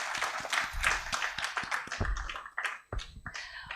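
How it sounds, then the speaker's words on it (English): An audience claps at a press conference in a Bengaluru hotel, a dense, fairly close patter of many hands that rises, thins out and fades into scattered claps near the end. "let us hear a big, big round of applause"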